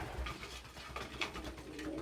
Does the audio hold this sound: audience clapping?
no